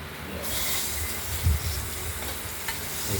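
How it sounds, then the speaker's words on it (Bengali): Cut potatoes fry in hot oil for a spicy boal fish curry, a dense bright sizzle that swells suddenly and then holds steady with faint stirring, close and without voices. "তেলের মধ্যে হালকা হালকা করে ভেজে নেব হালকা হলুদ করে"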